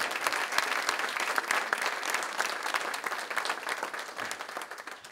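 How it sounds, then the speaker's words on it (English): Veterans hall audience applauding Rod Roderick at a VFW ceremony honoring a colonel in Wareham, crisp dense clapping from a crowd, steady and moderately loud for the whole stretch, with no talk over it. "give Rod a round of applause before you even stop."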